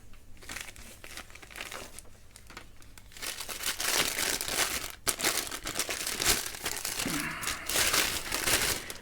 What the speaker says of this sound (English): It's a piece of paper.